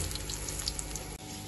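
A little water poured into a pan while making panjiri, a continuous close splashing trickle that runs steadily and then cuts off briefly near the end, with no voices.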